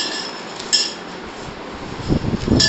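Utensils clink and scrape against a dish while ingredients are mixed, a few sharp clicks early on and a denser run of scraping knocks near the end, close and fairly loud with no talk.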